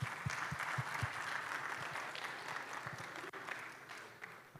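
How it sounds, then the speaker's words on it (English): A conference audience gives a round of applause, a broad, even wash of clapping with a few sharper claps up front, fairly distant and continuous for several seconds. "Let's do a round of applause,"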